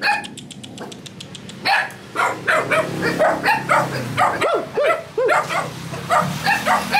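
A dog barks repeatedly at close range, a run of sharp barks and yelps coming in uneven bursts over several seconds, loud against a quieter outdoor background.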